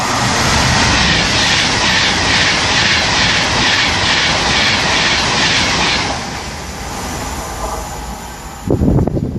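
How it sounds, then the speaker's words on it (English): A Virgin Trains Class 390 Pendolino running from Liverpool to London Euston rushes past Acton Bridge station with a loud, sustained roar and rhythmic wheel beats, fading after about six seconds, with a thump near the end. "Here is a Virgin Trains Class pendling to London Euston"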